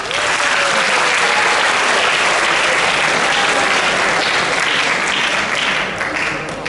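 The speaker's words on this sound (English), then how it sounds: "Let's give them all a round of applause!" Applause from a high school assembly audience fills the room steadily and loudly, a dense wash of clapping that holds for several seconds before easing slightly at the end, with a faint voice briefly underneath at the start.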